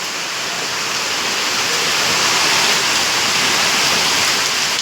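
Heavy rain starting, a loud, dense and steady roar of falling water that builds slightly and holds without a break.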